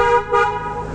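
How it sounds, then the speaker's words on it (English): A car horn honks twice in quick succession on Iron Mountain Road near Mount Rushmore, loud and close, the second blast slightly longer before fading. "after a horn honk"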